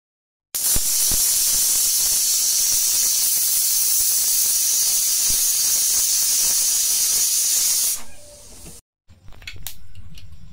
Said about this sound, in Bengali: এই যে আমার মাংস প্রেসার কুকারে বাসি দেওয়া হয়ে গেছে, আমি 4-5টা বাসি দিয়ে নিয়েছি।